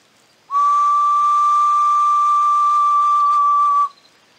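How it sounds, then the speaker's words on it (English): A pre-Columbian clay whistling jug with a jaguar face gives one steady, pure whistle lasting about three seconds, starting and stopping abruptly, loud and close with a faint airy hiss. "This is a whistling jug or a whistling vessel."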